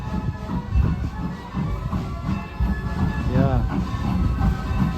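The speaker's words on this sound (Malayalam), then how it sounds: "നമ്മുടെ ട്രെയിൻ വരുന്നുണ്ട്" A train arrives at a station during a Christmas trip in America, a low rolling rumble with faint clatter beneath people talking nearby.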